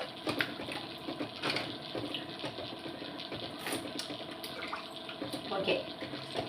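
Water pouring and splashing into a pot while cooking green chilli rasam, a steady running flow with faint kitchen clatter, close and fairly loud throughout.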